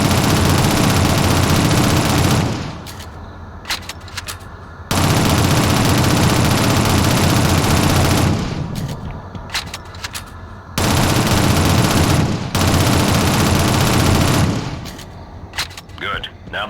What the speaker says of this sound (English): Use your SMG to clear it now.